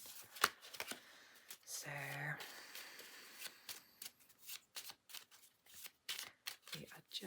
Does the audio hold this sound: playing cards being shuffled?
yes